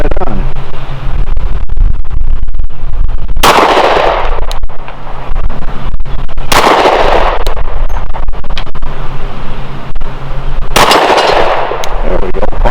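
Three sharp, loud gunshots from a Glock 20 10mm pistol loaded with PPU Defense Line 180-grain ammunition at a shooting range, spaced a few seconds apart, each a sudden bang trailing into a brief echo.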